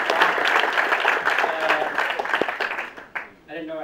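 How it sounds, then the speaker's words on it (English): An audience at a graduation event applauds warmly, with dense clapping that fades out at the end as a voice begins speaking. "I want a warm round of applause for Jason Calacanis."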